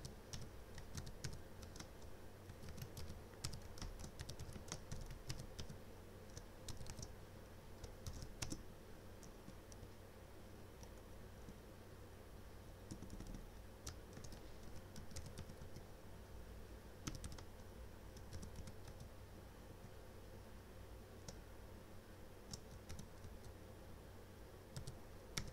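Steady clicking of Java code being typed on a computer keyboard while setting up a project in the Eclipse IDE, continuous close keystrokes throughout with no talking.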